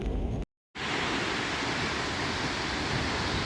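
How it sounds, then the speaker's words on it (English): A waterfall in New South Wales after heavy rain, a loud, steady broadband roar that cuts out for a moment near the start and then resumes unbroken. "How's that for a waterfall?"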